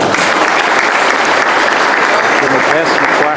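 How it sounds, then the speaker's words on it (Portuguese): Warm, sustained applause from a seated crowd welcoming a speaker at a large Catholic base-community gathering in Taiobeiras, Brazil; dense, steady clapping fills the whole stretch at close range with no talk over it. "Acolhemos a Sônia com uma salva de palmas."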